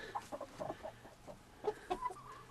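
A Silkie hen clucking in a chicken pen in short, soft bursts, several quick clucks spaced irregularly, close by with a faint background hum.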